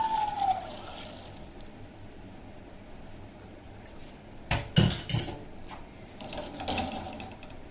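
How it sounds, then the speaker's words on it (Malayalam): A pot is set onto a kitchen stove and cooked black chickpeas are tipped into it for a curry. A few brief metallic clanks and clatters come midway and near the end against a quiet room. "ഇനിയിപ്പോൾ ഞാൻ വേറൊരു പാത്രം അടുപ്പത്തേക്ക് വെച്ചിട്ട് ഈ കടല ഞാൻ ഇതിനകത്തോട്ട് ഷിഫ്റ്റ് ചെയ്യാണ്"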